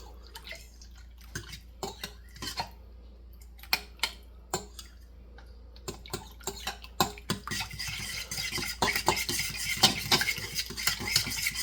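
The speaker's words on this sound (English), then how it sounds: "So stir the flour in really well." A spoon or whisk clinks and scrapes repeatedly against a pan as flour is stirred into roast ribeye gravy, starting with sparse taps and building to faster, denser stirring with a soft bubbling sizzle underneath.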